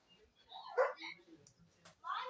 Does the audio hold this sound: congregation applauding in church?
no